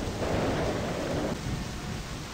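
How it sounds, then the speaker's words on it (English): Steady wash of heavy rain with rumbling thunder in a stormy scene from the driving game My Summer Car, a loud broadband roar that eases slightly partway through. "I think the rain is stopping right now."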